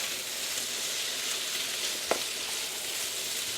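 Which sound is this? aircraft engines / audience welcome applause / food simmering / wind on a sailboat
food simmering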